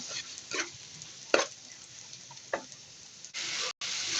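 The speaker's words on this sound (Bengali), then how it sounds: "তো আমার ডালটা ভাজা হচ্ছে।" Red lentils sizzle steadily in a pan while a utensil scrapes and taps against it a few times, ending in a louder burst of frying hiss.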